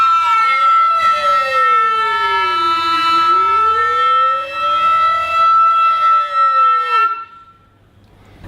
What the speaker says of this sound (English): asking me if I could glissando with my voice like that into the flute